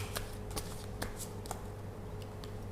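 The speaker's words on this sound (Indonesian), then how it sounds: "Kita akan kocok kartunya bersama-sama." Playing cards shuffled by hand in a few quick riffling bursts, close and fairly quiet over a steady low background hum, with no talk.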